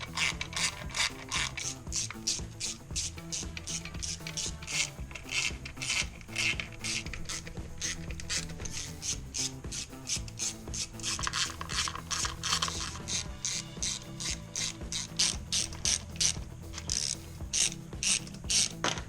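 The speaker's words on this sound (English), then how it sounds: "Then we'll get our runner bolts loose." A hand ratchet loosening intake runner bolts on a C4 Corvette engine, a long steady run of rapid clicking strokes repeating without pause, close and clear with no talk over it.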